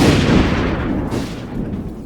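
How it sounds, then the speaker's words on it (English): An explosion sound effect added in editing software booms out as a dense, roaring blast that rumbles and slowly tails off, loud and alone, in a car repair episode about a 4.3 S10 Blazer. "I just had to buy the pro version of my editing software just to do this explosion."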